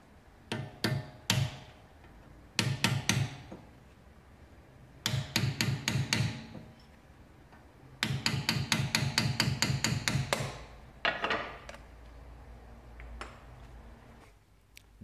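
Repeated sharp metallic hammer blows knock the dust cap off the front wheel hub of a BMW 3 Series E46 during a wheel bearing replacement, struck in quick bursts of several hits separated by short pauses, close and loud with no talking.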